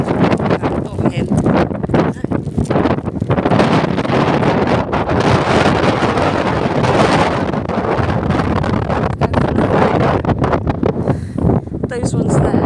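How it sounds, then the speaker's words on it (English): Strong wind buffets the microphone on open Bodmin Moor in Cornwall in February, a loud continuous roaring rumble with gusty surges throughout and no clear voices. "And it's so windy I can't hear if the stallion's coming."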